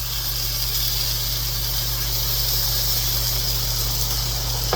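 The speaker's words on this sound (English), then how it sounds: "And that pot of water that the chicken is boiling in, pour that inside here slowly" Boiling water from a pot of cooking chicken poured slowly into a hot cooking pot, a loud continuous steamy hiss and sizzle holding steady throughout, close with no talking.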